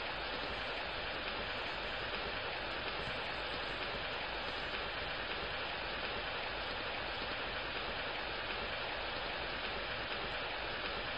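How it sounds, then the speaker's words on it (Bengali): Steady, dense rain pours without a break in an animated folk story about a cowherd boy and a parrot, a loud, even wash of hiss that holds at the same level throughout with no voices. "এমন বৃষ্টির মাঝে হঠাৎ করে"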